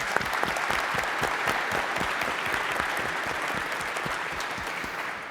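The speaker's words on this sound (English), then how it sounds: "Can we please give them a warm round of applause?" A crowd at a youth town hall applauds its panelists with dense, sustained clapping that holds a steady, even level for over five seconds with no pauses.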